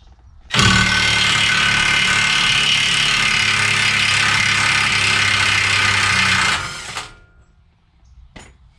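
An impact gun removes a 36 mm CV axle nut on a Jaguar, sounding as one loud sustained whirring, hammering burst of about six seconds that then cuts off, up close with no talking.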